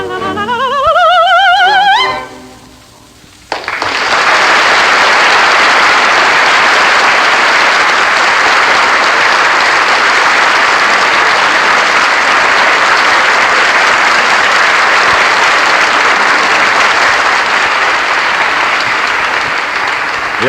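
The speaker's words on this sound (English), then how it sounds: "The applause is for Miss Risa Stevens, who sang the Sagadilla from Bizet's Carmen." Sustained, loud audience applause for opera singer Risë Stevens after her Seguidilla from Bizet's Carmen, rising after a brief tail of singing and then a dip, and continuing dense and steady to the end.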